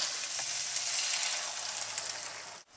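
Beef chunks browning in a pot for Tibetan shamdrey give a steady, close sizzle with faint stirring scrapes, cut off by a brief drop near the end.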